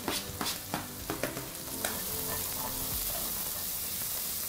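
Onions hit a hot pan with chicken and get stirred, giving several scraping strokes at first and then a steady, loud sizzle and fry that carries on to the end.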